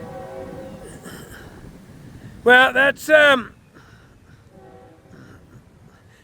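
A Florida East Coast Railway train sounds its horn in three loud blasts, the second short, while strong wind blows and someone talks before and after.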